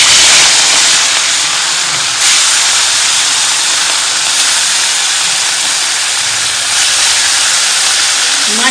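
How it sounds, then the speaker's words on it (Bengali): Fish fries in a pan with a loud, continuous sizzling hiss that stays steady and close throughout. "মাছ ভাজার সাথে গুড মর্নিং"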